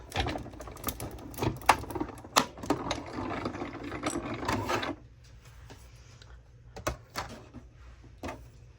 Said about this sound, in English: It would work in my Tim Holtz machine, but again, it's in the closet. Oh yeah, it's working.